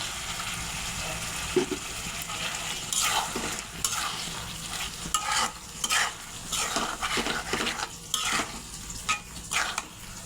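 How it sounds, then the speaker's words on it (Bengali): Fried mung dal being stirred into chicken curry in a pan, repeated scraping strokes of a spatula against the metal over a steady background sizzle, with no speech. "মুগ ডালটা মিশিয়ে নিয়েছি"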